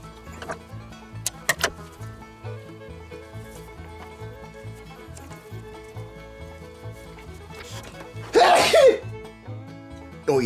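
A single loud, sharp sneeze from someone handling a heap of pepper while preparing a 2.7 kg chicken for the rotisserie, bursting out near the end over a background of soft clicks and tapping.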